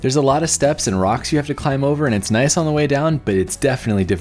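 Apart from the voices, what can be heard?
No distinct noise like a dog, phone or traffic.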